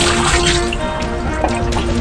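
Tap water runs steadily and fairly loud in a household setting, with a continuous splashing wash and a few small drips, no talk over it.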